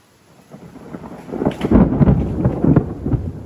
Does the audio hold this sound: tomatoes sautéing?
no